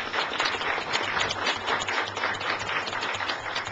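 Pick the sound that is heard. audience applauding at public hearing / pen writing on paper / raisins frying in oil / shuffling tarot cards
audience applauding at public hearing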